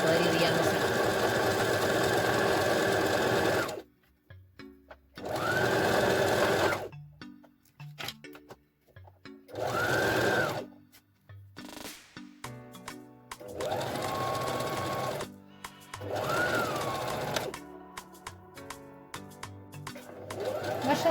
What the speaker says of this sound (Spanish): Traten de ir despacio con la máquina si recién arrancan a coser para poder ir derechito